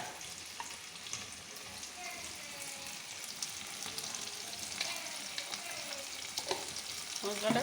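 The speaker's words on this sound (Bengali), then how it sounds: "মশলাটা কষিয়ে নিলে তাড়াতাড়ি হয়ে যাবে" Masala fries in a pan while being stirred, a soft, steady sizzle with light scraping and clinks, fairly quiet and continuous.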